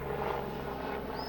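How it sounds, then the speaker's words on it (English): A helicopter flying overhead, its steady droning rotor hum sounding faint and distant outdoors, continuous through the short moment with no talking. "Helicopter."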